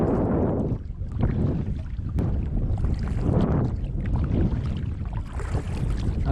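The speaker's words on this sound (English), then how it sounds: "I'm paddling into the wind and I'm sure you can hear lots of wind noise on here" Gusty wind buffeting the microphone while a kayak is paddled into the wind near Ding Darling on Sanibel, Florida, a continuous rushing roar that swells and eases in waves with faint water sounds beneath.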